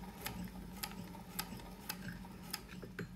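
A Singer 201K sewing machine runs a test seam, giving a quiet, steady mechanical ticking of sharp clicks at an even, unhurried pace over a low motor hum.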